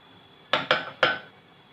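Cooked dal for sambar being churned in a metal pot, giving three sharp, close clanks of the utensil striking the pot in quick succession, with no talk.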